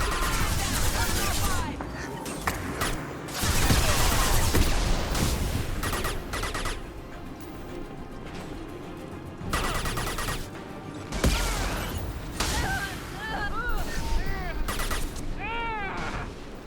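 Bursts of gunfire in the video game Mass Effect Legendary Edition, mixed with game voices talking and other effects, fairly loud with uneven rapid shots across the scene.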